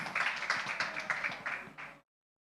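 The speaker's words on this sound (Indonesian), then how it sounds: "Boleh tepuk tangannya buat Mas Arfan." An audience at a digital solutions forum for green economic growth claps for a company CEO, the individual claps rhythmic and close, fading out before stopping abruptly.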